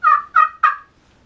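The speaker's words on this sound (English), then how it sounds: "however you scratch it on this surface, and this is a slate surface, that vibration makes that noise" Slate turkey call scratched with a striker, giving three close, loud yelping purrs in quick succession, each a raspy gobble-like note, then quiet.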